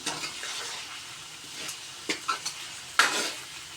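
Chicken browning in a pan with onion and garlic gives a soft, steady sizzle, broken by several sharp scrapes and clinks of a spoon stirring, near and fairly quiet.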